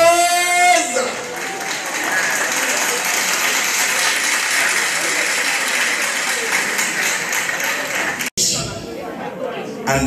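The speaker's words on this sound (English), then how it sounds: "Can we give Jesus another round of applause?" A crowd at an 80th birthday celebration gives sustained applause that starts just after a brief voice and builds into a full, steady clatter of many hands. It stops briefly near the end, then continues.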